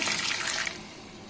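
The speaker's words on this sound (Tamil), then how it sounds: "இதில் கொஞ்சம் தண்ணி சேர்த்து" Water poured into a cooking pot of sautéed chilies and spices, a brief close splashing gush that tapers off quickly.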